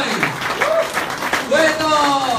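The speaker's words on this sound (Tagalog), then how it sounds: "3 milyon palakpak!" Audience applause at an AIM Global gathering, a steady burst of clapping heard under an excited host calling out.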